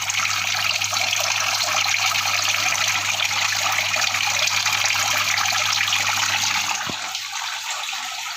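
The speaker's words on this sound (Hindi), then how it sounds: "पंप चालू हो चुका है। आप देख पा रहे हो कि पानी नीचे से आके ऊपर आ रहा है" A water pump in a Bajaj Frio air cooler circulates water, giving a steady, loud gushing and trickling flow that runs evenly throughout under a low motor hum.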